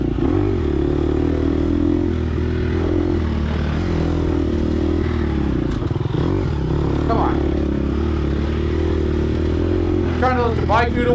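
Dirt bike engine during a harescramble race, a continuous, loud droning motor with rough rumble and wind noise throughout, and a few brief scraping, clattering accents near the end.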